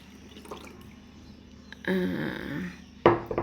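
Soaked henna leaf juice is poured through a strainer, giving a gentle trickle and splash of liquid that swells partway through and then returns in a louder burst near the end.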